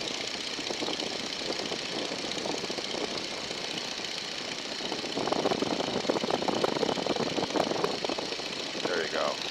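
A small airplane engine drones steadily in flight at 1,750 RPM, a constant loud buzzing hum with a faint rhythmic beat, while a voice talks over it.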